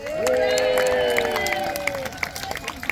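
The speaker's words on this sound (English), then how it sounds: "Big cheer for our knights!" A festival crowd cheers and whoops loudly for Norman knights at a castle history event, a dense swell of voices that slowly fades, with scattered claps and shouts toward the end.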